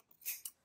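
Sharp scissors make a quick snip or two through fabric close to the stitches of a hexagon coin purse, brief and crisp at close range.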